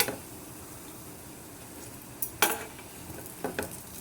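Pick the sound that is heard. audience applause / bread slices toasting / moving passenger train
bread slices toasting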